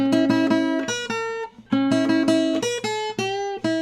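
A clean electric guitar plays a quick run of plucked notes stepping in even whole-tone intervals, repeated twice in a short phrase.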